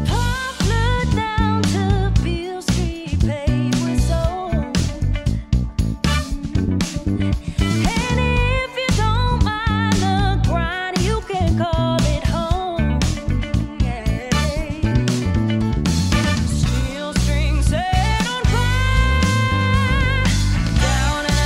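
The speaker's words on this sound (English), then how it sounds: "that's what the Soundgear SR500E sounds like" Ibanez Soundgear SR500E bass guitar with processing, playing in a full band track with drums and other instruments, loud and dense throughout, busy punchy bass lines under steady beats, no speech.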